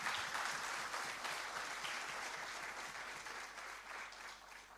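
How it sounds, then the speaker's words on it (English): A round of audience applause at the inauguration of the Pune Manufacturing Expo 2022, steady dense clapping heard from a distance, fairly faint and gradually fading over a few seconds. "Thank you once again with a round of applause."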